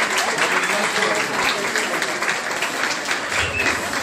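A crowd applauds a bride and groom at a welcoming celebration with dense, sustained clapping that fills the whole stretch, loud and close.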